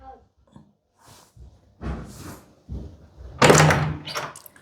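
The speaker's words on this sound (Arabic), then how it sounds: "تعالي افتحي الباب" A house door is opened with a few soft knocks and shuffles, then a loud clattering thud as it swings, followed by scraping movement.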